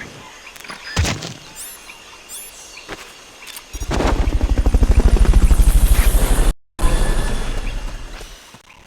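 Helicopter in the Metal Gear Solid Peace Walker video game: a few sharp clicks and thuds, then loud, rapid rotor chopping that swells close, cuts out briefly and resumes.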